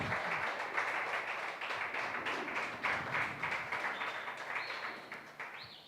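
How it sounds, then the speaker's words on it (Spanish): A church congregation applauding during a service, a dense sustained patter of many hands clapping that fades slightly toward the end, with brief faint voices underneath. "denle un aplauso, apláudalo, apláudalo"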